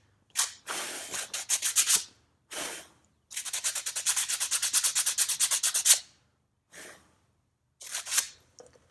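Sandpaper rubs back and forth on a wooden climbing hold in quick, close strokes, forming several bursts with a long steady run in the middle and short pauses between.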